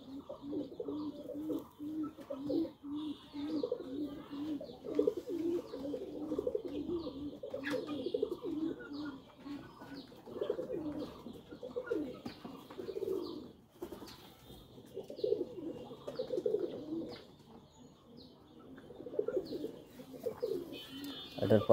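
Pakistani breed pigeons coo in repeated low, throaty rolling phrases close by, with occasional wing flaps and faint chirps. Someone talks quietly in the background.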